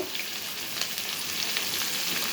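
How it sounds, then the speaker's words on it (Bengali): Bay leaf and dry red chilies crackle in hot mustard oil in which fish heads were just fried, a steady close sizzle with faint scattered pops and no voices. "এবার তেলের মধ্যে 5 ফোড়ন দেব, তেজপাতা দেব, শুকনো লঙ্কা ফোড়ন দেব"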